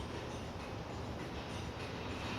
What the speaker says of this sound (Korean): 가상 열차가 지금 지나갑니다.